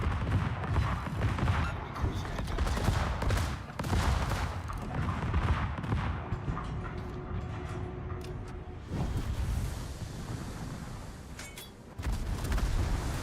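Naval gunfire in World of Warships: repeated heavy, booming salvos with rumbling blasts and explosions that overlap and roll on at a steady distance, loud and dense for most of the stretch.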